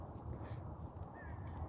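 A crow caws outdoors on a walk through grass and flowers, its call standing briefly above a steady wash of wind and ambient noise.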